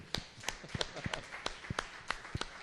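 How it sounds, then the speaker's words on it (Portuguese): A church congregation claps along in a steady rhythmic beat, the sharp hand claps repeating about three times a second at moderate distance, with faint voices underneath. "Quem pode aplaudir ao Senhor comigo?"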